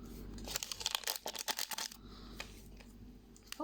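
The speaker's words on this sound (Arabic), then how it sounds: "معايا كيسين من الفانيليا" Two small paper packets of vanilla are torn open and handled in a home kitchen while making a chocolate sponge cake, producing a dense run of close, snappy rips and crinkles, then a few sparser rustles.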